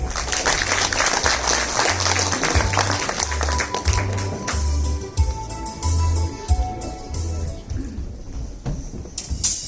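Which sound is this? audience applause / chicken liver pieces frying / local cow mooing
audience applause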